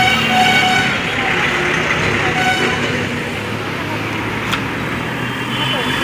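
Horns toot from trucks, buses and cars stuck in a road traffic jam outside the Sevok Kali temple on the Siliguri to Sevok route, sounding over a dense, steady wash of engine and crowd noise with voices mixed in.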